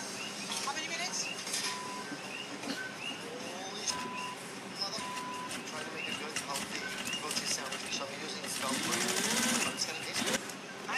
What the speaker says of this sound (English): we're gonna just top stitch through everything down both these lines